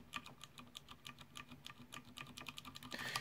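Clicky Cherry MX mechanical keyboard switches being typed on in a steady run of sharp, close keystrokes, each with a crisp click, no talking.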